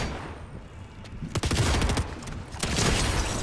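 Gunfire in Fortnite, with a cluster of sharp shots and a rapid volley crackling close by, followed by a further burst of shots near the end, with no talking.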